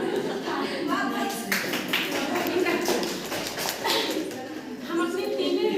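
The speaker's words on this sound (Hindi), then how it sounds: "हम अपने तीनों चयनित प्रतिभागियों के लिए एक बार जोरदार ताली।" Audience applause for three selected participants at a school in-house training event, a dense burst of hand claps with scattered laughter and voices mixed in, fairly loud and steady throughout.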